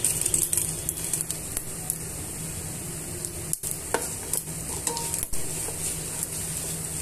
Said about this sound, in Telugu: పోపు దినుసులన్నీ కూడా దోరగా వేయించుకోవాలి